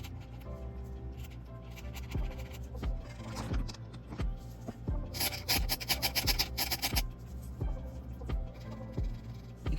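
Fingers rubbing and scratching hard on a painted custom shoe's topcoat to test for cracking, giving close, quiet rasping strokes in an uneven rhythm, with a harsher scratchy burst midway and no talk.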